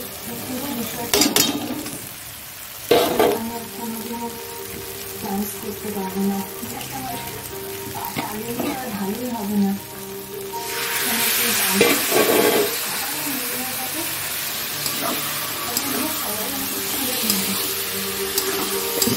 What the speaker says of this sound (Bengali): এবার এর মধ্যে চিংড়ি মাছগুলো দিয়ে দেবো সব।